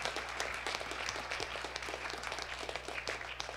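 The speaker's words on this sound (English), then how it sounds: "Let's give a strong hand clap to the Lord." A church congregation gives a strong round of hand clapping during a sermon, many hands clapping steadily and fairly close, over a constant low electrical hum.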